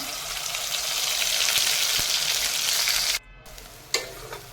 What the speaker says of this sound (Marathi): मीडियम फ्लेमवरती आपल्याला ते हलके परतून घ्यायचे आहे।